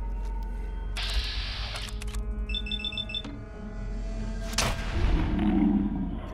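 Improvised pistol firing in Fallout 4: a few sharp bursts of gunfire with mechanical clatter and a short electronic alarm-like beeping, over a constant low game hum.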